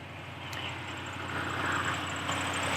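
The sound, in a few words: Range Rover L322 engine idling after start-up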